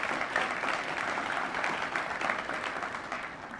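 Audience applause at a mayor's State of the City address, a steady, even wash of many hands clapping indoors, holding at a constant level before easing slightly at the end.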